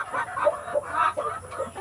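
Rhode Island hens cluck in short repeated bursts, a steady run of soft, throaty calls close by with no one talking.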